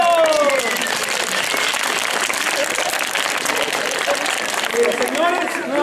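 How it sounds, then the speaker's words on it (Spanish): Loud applause from an audience at a community gathering, steady dense clapping for several seconds with voices calling out over it. "¡Fuertes aplausos para todos!"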